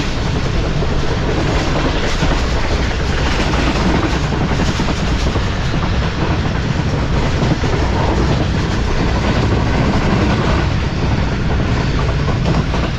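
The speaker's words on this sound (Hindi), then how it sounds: "काफ़ी अच्छी स्पीड में स्किप किया है ट्रेन ने गंबट को।" The Shalimar Express rushes through a small station at high speed, and a loud, dense roar of wheels and carriages fills the whole stretch without easing or breaking.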